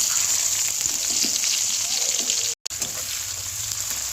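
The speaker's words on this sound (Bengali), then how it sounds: "পেঁয়াজ আর টমেটো ভাজা হয়ে গেছে" Steady, loud sizzling of onions and tomatoes frying in oil with whole spices, a continuous crackling hiss up close, with one brief dropout midway.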